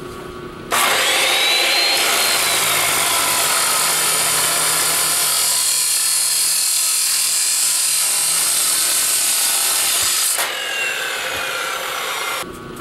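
Box tube steel being cut for the legs of a homemade gold ore jaw crusher, a loud continuous grinding cut that starts abruptly, holds steady for about ten seconds, then drops to a softer tail before stopping.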